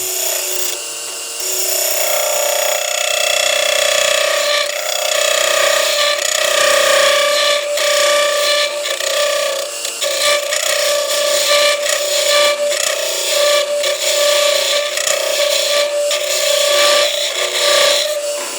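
A hand tool cuts into hard maple, producing a loud, continuous harsh scraping with a steady whining tone that wavers slightly as the cut goes on.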